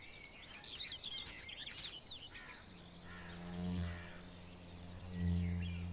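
A barred warbler feeding its nestlings on caterpillars gives brief, high chirping calls through the first two seconds, followed by a steady low droning tone that swells twice toward the end.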